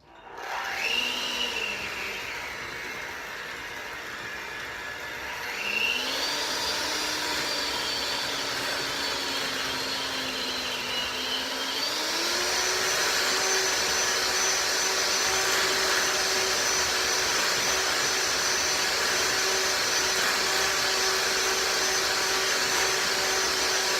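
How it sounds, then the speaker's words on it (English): An electric hand mixer whirs through gluten-free banana bread batter with a steady, close motor whine that steps up in speed twice and then holds at a higher pitch. "So I've got my little mixer here."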